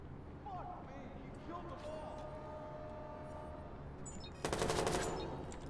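Gunfire in the Watch Dogs video game, a continuous clatter of shots under a steady game soundscape that swells into a louder, denser burst near the end.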